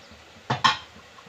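Thick, sturdy steel ladle taking a scoop of batter, two quick close metallic knocks and scrapes about a tenth of a second apart, then quiet room tone.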